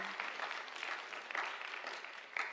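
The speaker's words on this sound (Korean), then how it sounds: "우리 박수 한번 보내주실까요?" A church congregation applauds a deacon at a Korean service in Loma Linda, steady quiet clapping from a crowd at some distance, continuous and even, with no voices over it.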